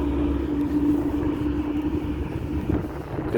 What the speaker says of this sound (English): truck is loud